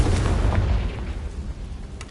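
A Confringo explosive spell going off in Hogwarts Legacy on PS5: one loud, rumbling blast with a heavy low boom that slowly fades over about two seconds, with no voices.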